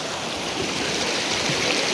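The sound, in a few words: strong flowing water at a hot spring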